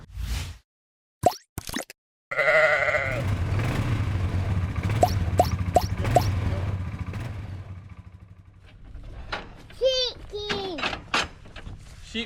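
Hardy Shetland cross Cheviot sheep bleating on a farm, a few short wavering calls near the end after thumps and clatter, with low mechanical rumble and people talking nearby.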